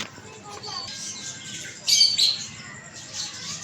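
Parrots in a park give a short burst of sharp squawks partway through, over a low, steady background of outdoor ambience and faint voices.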